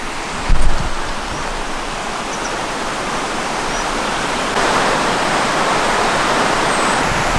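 A slow river spills into a plunge pool in a Devon woodland beside an old aplite quarry, giving a steady, loud broadband rush of water that stays constant throughout, with a brief low thump near the start.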